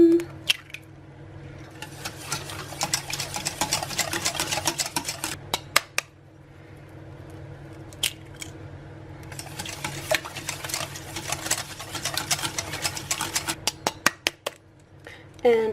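Eggs being whisked one at a time into a chocolate trifle batter, rapid rhythmic clinking of a whisk against a bowl in bursts with short pauses, close and moderately quiet.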